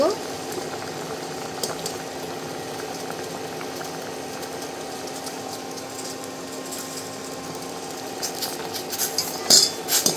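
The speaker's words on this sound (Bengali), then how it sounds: "এগুলো হচ্ছে রাঙা আলু বা মিষ্টি আলু বলে, এগুলোকে সেদ্ধ বসিয়ে দিয়েছি" Sweet potatoes boiling in a pot of water on an induction cooktop, a steady low bubbling simmer with a few clinks near the end.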